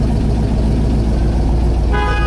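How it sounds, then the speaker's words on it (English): A 1960s Corvette Stingray, a solid-lifter 365-horsepower car, sounds its horn in one short, loud honk near the end, rising over steady, close background noise. "Horn works."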